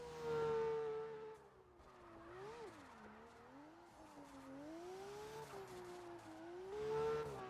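A Toyota Supra drift car in CarX Drift Racing Online holds a steady, wavering engine drone at high revs through a qualifying run at Ferrepolis, with the pitch rising and falling as it slides through the zones, and tire squeal underneath.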